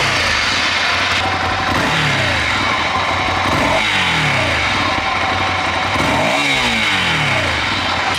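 A Ducati motorcycle engine revs up in repeated bursts close by, each blip rising in pitch and falling back over a steady idle, with no talking.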